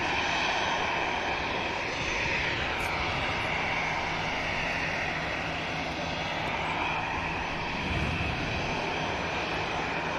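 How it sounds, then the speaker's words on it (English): EasyJet airliner taxiing on the Victor Alpha taxiway at Manchester Airport, a steady, close engine roar with a broad whine that holds evenly throughout, no talk over it. "I think this EasyJet's going to enter it in front of us. Yeah. On the Victor Alpha taxiway."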